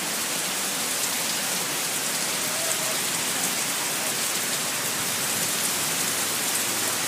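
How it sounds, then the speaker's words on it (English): Heavy tropical rain pours steadily on Koh Tao, a dense, continuous hiss of downpour close by with no breaks, no voices and no thunder. "crazy, crazy rain at this point."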